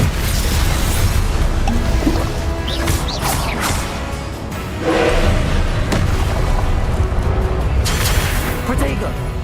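An Incendio fire spell cast in the Hogwarts Legacy video game, loud booming fiery bursts and crashing impacts in a dense combat mix, with a voice calling out spells over the effects.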